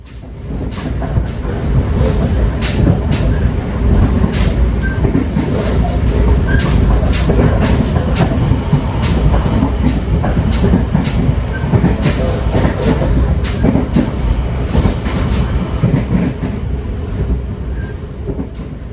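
A Tawang Jaya Premium train car rattles and clatters steadily along the rails, heard from inside near the door, a loud continuous rumble with clicking wheel noise throughout and no talking.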